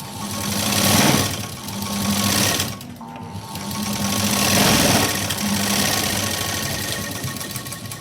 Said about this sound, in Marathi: तर इथे मी आधी शिलाई देऊन घेईन